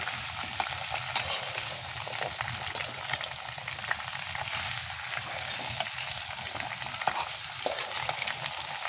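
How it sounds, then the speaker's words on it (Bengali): Papaya pieces stir-fried in a pan with salt water for a homestyle fish curry, a steady close sizzle with scraping stirs and occasional sharper clicks, no talking. "এখানে মা লবণ জল দিয়ে পেঁপেগুলো পুরো কষিয়ে নেবে"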